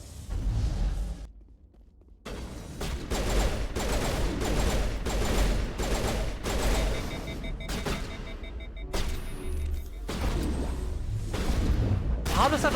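Mass Effect Legendary Edition shotgun fire, with a rapid series of sharp, loud blasts in close succession after a short quiet gap, set against busy combat sounds.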